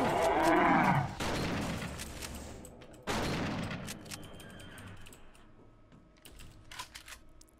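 Shotgun blasts in the video game TerraWars: NY Invasion, two heavy booming shots a few seconds apart, each trailing off, followed by lighter clicks and game sounds.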